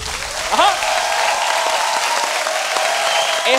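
Audience applause greets the start of a live music session, a steady wash of clapping from a crowd heard throughout, with a voice talking over it near the start and again at the end.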